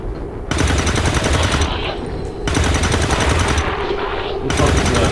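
Gunfire from the XCOM 2 video game: two dense, loud bursts of rapid automatic fire separated by a brief pause, with another burst starting near the end.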